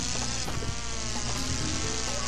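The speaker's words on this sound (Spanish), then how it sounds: "¡No! Me picó la abeja." A bee in Crash Bandicoot 2 buzzes steadily and loudly, with a droning, insect-like whine that holds unbroken throughout.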